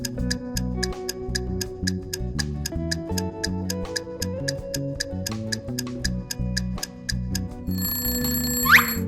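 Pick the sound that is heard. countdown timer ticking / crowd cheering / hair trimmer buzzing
countdown timer ticking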